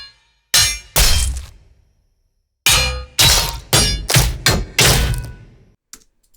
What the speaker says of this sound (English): So if we just listen to the fight sounds